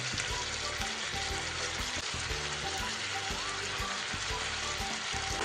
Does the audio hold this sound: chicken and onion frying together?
yes